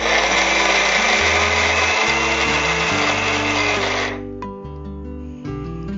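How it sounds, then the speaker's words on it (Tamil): A mixer grinder whirs loudly as it grinds vadai batter with banana flower, running steadily for about four seconds before winding down into a fading hum with a few knocks and rattles. "அரைச்சிட்டு கொஞ்சம் அரைப்பட்டதும் வாழைப்பூ சேர்த்து அரைச்சுக்கலாம்"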